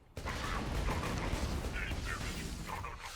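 Explosions and weapon fire from a chaotic Borderlands 2 firefight with the Kerblaster grenade launcher, a steady loud barrage of blasts and mechanical clatter running for about three seconds after a sudden start.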